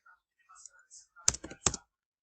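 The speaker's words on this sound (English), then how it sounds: "I'm gonna go ahead and go in the chat and type" Quick bursts of keystrokes typing a chat message on a computer keyboard, two short clusters of close clicks near the end after faint whispery sounds.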